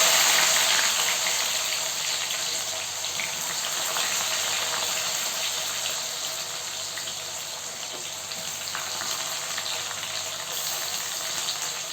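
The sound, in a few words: onions frying in oil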